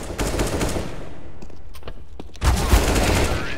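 Rapid bursts of gunfire in the video game Counter-Strike: Global Offensive, loud and continuous, with a brief lull before a heavier volley resumes.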